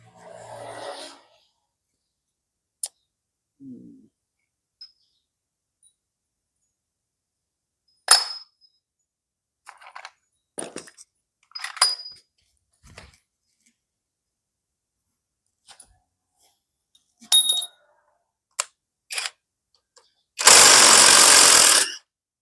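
An impact wrench works a 14 mm bolt off a Ryuka car that won't start. Scattered quiet clicks and taps give way near the end to one loud, rattling burst about a second and a half long.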